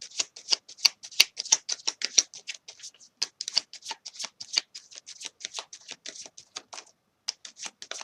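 A deck of tarot cards being shuffled close up, a rapid run of crisp riffling snaps and flicks that continues in quick bursts with a brief pause near the end.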